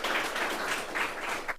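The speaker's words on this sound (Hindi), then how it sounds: "एक बार जोरदार ताली देंगे।" An audience at a ceremony honouring selected teachers breaks into brief, steady applause, a dense wash of many hands clapping at moderate distance.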